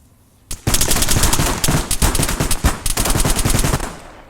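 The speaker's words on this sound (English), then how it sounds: "Let's see if he continues to fire through the grass when we move him past the grass." An AI soldier in the video game Arma 3 fires a machine gun through grass in rapid, loud bursts of sharp gunfire, with short pauses between the volleys and no talk over them.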